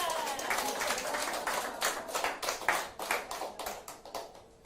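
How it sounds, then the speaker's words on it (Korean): Audience at a humanities lecture applauding for a soprano, starting as a dense burst of clapping that thins into distinct, rhythmic individual claps before fading out. "그 아가씨를 위해서 박수 한번 보내요."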